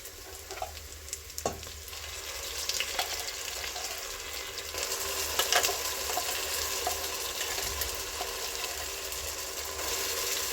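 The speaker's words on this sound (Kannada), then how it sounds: "ಮಸಾಲೆನ ಚೆನ್ನಾಗಿ ಎಣ್ಣೆಲಿ ಒಂದ್ಸತಿ ಫ್ರೈ ಮಾಡೋಣ" Ground masala for mutton biryani frying in hot oil, a steady loud sizzle and crackle with occasional scraping stirs, close and continuous, no voices.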